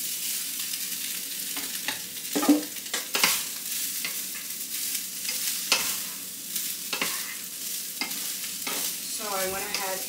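Meat fries with peppers and onions in a pan on a stovetop set to low, giving a continuous sizzle broken by repeated scraping stirs and a few louder clanks, with no voices.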